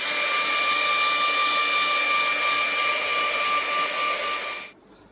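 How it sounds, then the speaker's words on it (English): A hair dryer blows steadily and loudly over an acrylic painting, a continuous close whooshing hum that cuts off abruptly near the end, leaving quiet room tone. "I've blow dried it."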